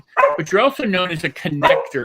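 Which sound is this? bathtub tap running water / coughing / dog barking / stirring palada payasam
dog barking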